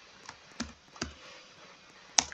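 Typing on a computer keyboard: a few scattered, fairly close key clicks over a low background hiss, ending with one sharper tap.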